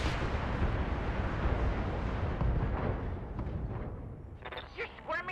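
Mech weapons fire in the BattleTech video game as a rumbling run of heavy blasts and explosions. The impacts fade into softer scattered pops near the end, with a voice faintly present.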